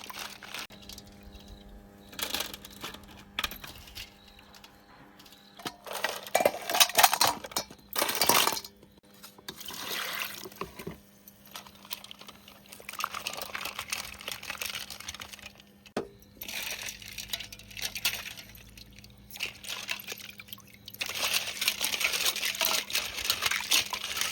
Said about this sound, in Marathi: दोन 3 पाण्याने हे खेकडे धुवून घेतले.